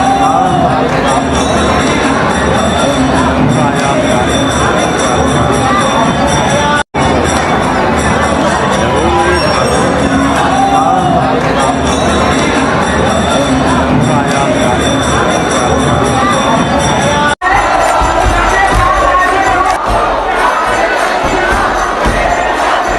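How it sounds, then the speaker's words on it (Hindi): A dense crowd celebrating Holi in Braj, Mathura, roars with continuous singing, shouting and cheering, loud and close throughout with many overlapping voices and brief cutoffs. "यहाँ पर मैंने देखा सभी अपनी मस्ती में गा रहे हैं, झूम रहे हैं। किसी को कुछ मतलब नहीं कि कितनी भीड़ है"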